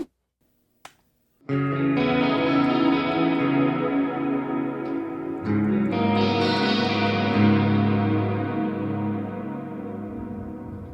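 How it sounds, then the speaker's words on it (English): A couple of faint clicks, then strummed electric guitar chords swirl with lush chorus and sweeping flanger from a TC Electronic pedal, sustained and ringing out close by. "I really like the chorus and the flanger that's in the TC Electronic GeForce. I'm now going to turn that on"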